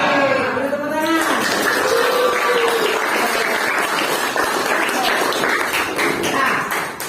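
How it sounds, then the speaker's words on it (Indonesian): A classroom of students bursts into applause after a math lesson question, a dense burst of clapping sustained for several seconds with voices mixed in. "beri tepuk tangan"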